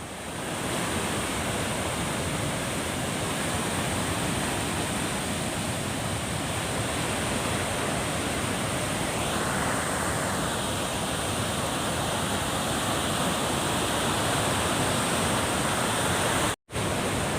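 Water pouring through the seven open spillway gates of the Pa Sak Jolasid Dam in Lopburi, Thailand, a constant dense roar of churning flow that stays loud and unbroken, with a brief dropout near the end.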